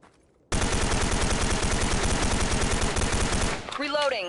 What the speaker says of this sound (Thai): ต่อไปเป็นมูฟช็อตแบบไม่เล็งครับ